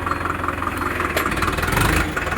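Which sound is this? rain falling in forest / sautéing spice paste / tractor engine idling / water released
tractor engine idling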